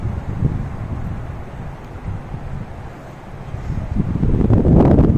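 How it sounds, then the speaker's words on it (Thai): Strong, cool afternoon wind buffets the microphone outdoors at a park overlooking the Golden Gate Bridge, a steady low rumbling roar that dips slightly midway and then swells louder at the end. "ลมก็เลยแรง"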